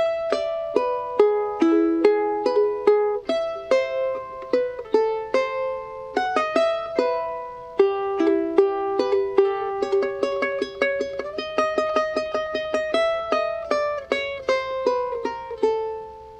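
A charango picks out a Bolivian taquirari phrase in bright plucked notes, steady and close, with a short pause midway before the melodic line resumes, no voices over it.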